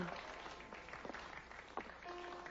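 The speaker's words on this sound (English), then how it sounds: "Did you hear that applause?" Polite applause from an audience follows a couple's dance, heard faintly and steadily throughout, with some background voices and a brief tonal hum near the end.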